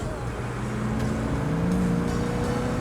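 A steady low engine drone from an open-top vintage race car at speed, with a rising pitch sweep midway and constant road and wind rumble throughout.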